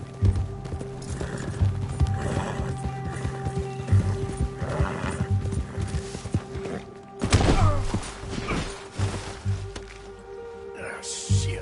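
A horse in Red Dead Redemption 2 gallops with steady clip-clopping hooves and lets out loud neighs and whinnies, with a burst of thumping and rustling partway through.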